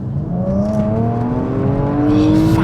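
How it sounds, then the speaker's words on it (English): Porsche Macan Turbo engine accelerating, a steadily rising tone that climbs in pitch as revs build, loud and close with no talk. "The noise is absolutely what you'd expect from a Porsche."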